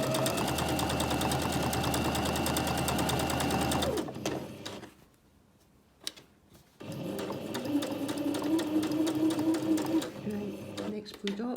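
A sewing machine runs a tacking seam while a zip is sewn into a cushion cover, whirring steadily and close for about four seconds, stopping, then starting again. Speech is present through much of it.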